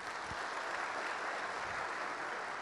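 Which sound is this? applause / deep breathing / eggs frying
applause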